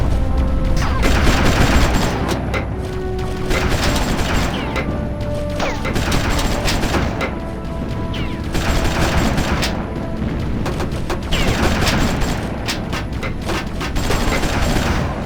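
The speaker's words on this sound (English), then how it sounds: "Notice that your squad automatically started to fire on the enemies?" A squad fires on enemies in the real-time strategy video game Ground Control, loud continuous automatic gunfire with blasts and mechanical clatter layered densely across the whole stretch.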